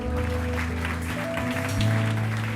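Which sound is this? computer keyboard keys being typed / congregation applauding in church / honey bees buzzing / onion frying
congregation applauding in church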